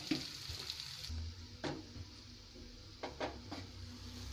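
Mustard seeds, pepper and cumin fry in a pan as a tempering for kara pongal, producing a soft continuous sizzle with a few sharper stirring scrapes and clicks, fairly quiet and free of talk.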